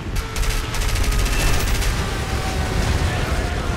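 War Thunder aircraft cannons and machine guns fire in a dense, sustained roar of rapid shots under engine drone. Loud bursts flicker early on, and a voice is briefly heard.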